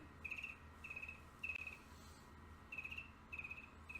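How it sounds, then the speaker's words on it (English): Crickets chirp in short, evenly spaced trilling bursts, about five pulses over a few seconds, clear and fairly close against a quiet low hum with no talking. "Crickets."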